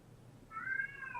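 An annoyed cat gives a single rising-and-falling meow, fairly close and clear, after a brief quiet moment.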